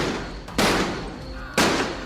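Two gunshots ring out in a dramatized Hindi crime story, spaced about a second apart, each a sharp blast with a lingering tail over a dense noise bed.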